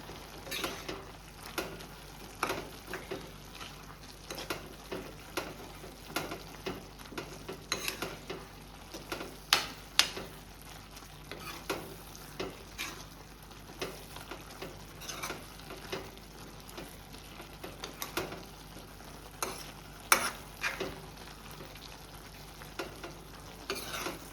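Prawns being mixed with homemade garam masala for Goan-style chilli prawns, a spoon or hand stirring with steady soft scrapes and wet clicks, close and fairly quiet, with occasional sharper taps and no talking.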